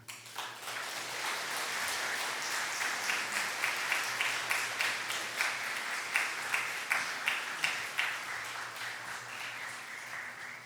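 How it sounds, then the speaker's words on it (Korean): Church congregation applause welcoming the preacher at a Sunday worship service, sustained clapping at moderate distance with a slightly rhythmic, pulsing pattern throughout. "나오실 때 사랑의 박수, 환영의 박수 부탁드립니다."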